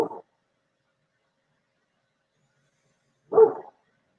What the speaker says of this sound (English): Wonder what the dogs are barking at.